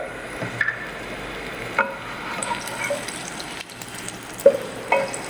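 Dried red chilies and sesame seeds fry in coconut oil, a steady close crackling sizzle with occasional sharp pops and light clinks of stirring, no voices.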